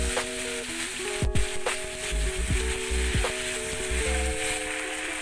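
Raw tomato paste hits hot white oil and ghee, a bright continuous sizzle close up with a few sharp stirring knocks and scrapes, no speech.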